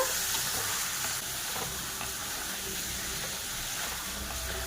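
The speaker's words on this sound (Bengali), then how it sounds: "জল দিয়ে আরো কিছুক্ষণ মাংসকে কষে নেব।" Mutton being sautéed with a little water in a pan for a Bengali chana dal dish, a steady close hiss and sizzle with soft stirring scrapes and no talking.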